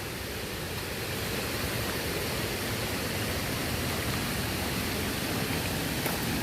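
A small waterfall spills below a lock on the Ohio Erie Canal, giving a constant broadband rush of falling water that stays steady and close with no break and no voices.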